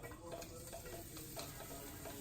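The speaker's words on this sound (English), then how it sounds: "Hear it sizzling a little bit." Minced garlic sizzles faintly in warm oil in a pan, giving a soft, continuous crackle with small pops, quiet and close with no voices.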